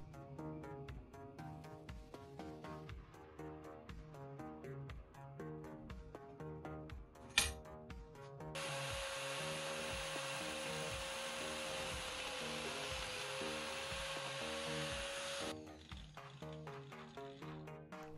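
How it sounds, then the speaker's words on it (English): A sandpaper disc smooths the cut edges of a screw during vintage yacht restoration, a steady bright grinding hiss lasting several seconds, set against a background of rhythmic clicking music, with a sharp tap just before it starts. "I smoothen the edges of the cut screw with the sandpaper disc."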